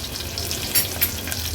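Mustard seeds, cumin, curry leaves and asafoetida sizzling in hot oil as a tempering, a dense, close hiss with a couple of brief, sharp crackles.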